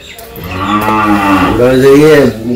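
A cow in a village lets out one loud, long, close moo that rises and falls, with no one talking.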